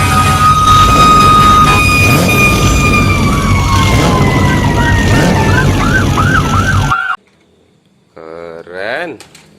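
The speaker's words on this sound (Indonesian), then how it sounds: "ini ada mobil pemadam" A toy fire engine siren wails loudly and steadily, its tone sliding down and then warbling, before it cuts off abruptly and a short electronic toy sound follows.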